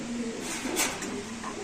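Giribaz pigeons at a market coo softly and continuously up close, their low rolling calls steady over a busy background hum.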